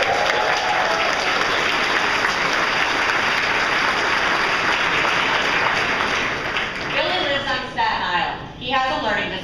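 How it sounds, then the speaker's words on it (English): Loud, dense applause from a large audience at a spring benefit gala fills the space continuously, then thins and breaks up toward the end as a voice begins to speak over the fading claps. "And now you're really going to clap."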